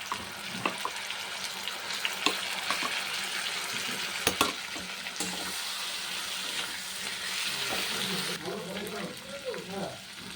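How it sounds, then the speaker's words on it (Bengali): Vegetables fry in a pan with turmeric, giving a steady sizzle with intermittent scraping stirs and clinks, and a brief splash of liquid near the end. "দেখো সবজিটা ভাজা হয়ে গেছে"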